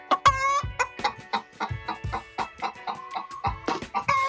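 Homestead chickens on a mountaintop farm cluck close and loud in a quick irregular series, with short pulsed calls and a few stretched squawks and no talk.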